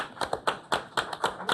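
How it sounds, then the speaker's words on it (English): A few people at a city council meeting clapping, sparse distinct claps in an uneven rhythm, close and fairly light, over a short burst. "Well, I think we need a round of applause."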